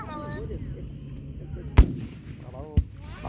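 Fireworks at a display in Plainfield, Connecticut: two sharp, heavy booms about a second apart, loud against a low crowd murmur and voices talking nearby.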